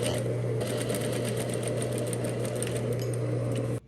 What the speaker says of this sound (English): I'm just stitching with a 1/4 of an inch seam allowance.